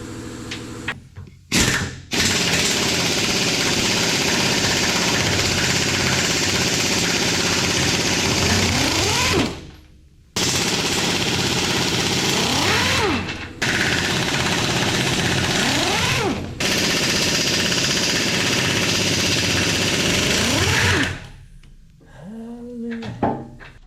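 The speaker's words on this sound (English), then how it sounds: "My air compressor and gun is not" Air impact gun driven by an air compressor, used on a 72-inch Diamond brush cutter, rattling in long loud bursts of several seconds each with brief pauses between them.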